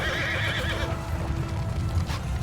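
Horses in a battle in the video game Mount & Blade II Bannerlord, a loud whinny rising over the thudding of galloping hooves in a dense, close mix with no voices.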